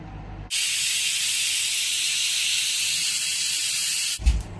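Steam hisses loudly and steadily from a pressure cooker whistle while dal cooks, a sustained high rush lasting several seconds before cutting off abruptly, followed by a brief clunk.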